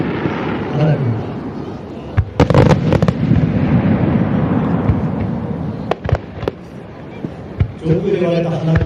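Fireworks at the 2019 Akigawa valley display burst overhead, willow-style shells trailing down, with sharp booms and crackles in uneven clusters over a busy outdoor crowd and voices talking.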